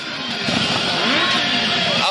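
Several motorcycle engines idle and rev steadily close by at an outdoor engagement gathering, a rough throaty drone with rising and falling pitch throughout.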